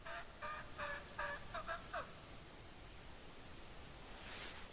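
Turkey calls in The Hunter hunting game: a short series of clucking yelps in the first two seconds, fairly clear over a steady outdoor hiss with a constant high insect-like tone, then only ambient noise.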